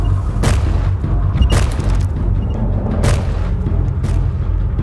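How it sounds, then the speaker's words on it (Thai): Bomb explosions go off in the Roblox zombie game Field Trip Z: loud, repeated booms ring over a dense, constant din of game noise. "อ๋อมันกล่องนั้นก็คือของที่มันเอามาทิ้งใส่เราอ่ะพี่โมเซ่เป็นระเบิด"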